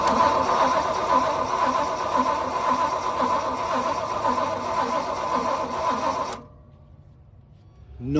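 An old Jeep engine that sat outside for 40 years cranks steadily and rhythmically without catching for lack of spark, a loud mechanical churn that cuts off abruptly, leaving a low hum.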